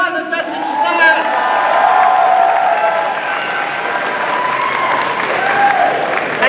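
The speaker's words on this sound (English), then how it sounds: "Give a round of applause, it's best in class." An audience claps and cheers at an anime convention masquerade awards ceremony, sustained applause from a large crowd filling the hall with scattered whoops, while an amplified voice speaks over it at the start.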